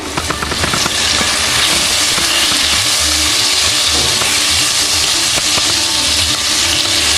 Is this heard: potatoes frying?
yes